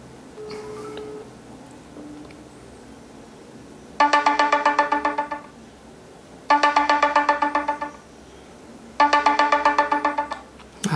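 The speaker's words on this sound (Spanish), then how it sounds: "vamos a llamar nuevamente al teléfono para que ustedes escuchen nuevamente el nuevo ringtone" An iPhone ringtone plays in three identical bursts of rapid, bright chiming tones, each about one and a half seconds long with short pauses between, close and clear.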